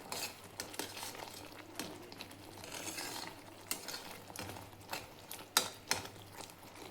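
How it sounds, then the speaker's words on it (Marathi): Sweet coconut rice with dissolving sugar is stirred in a pan, soft scraping and scratching strokes repeating unevenly with a faint sizzle underneath, close and quiet, with a few sharper clinks of the spoon toward the end. "5 मिनिट एकसारखं हलवत राहायचंय"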